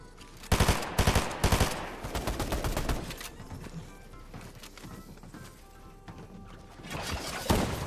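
Rapid bursts of automatic gunfire from a Fortnite ranked match, loud volleys that cluster at the start and return near the end, with quieter scattered shots and impacts in between.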